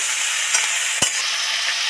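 Ridge gourd and tomato frying in a pan give a steady close sizzle, broken by a couple of brief spoon knocks near the middle, with no talking.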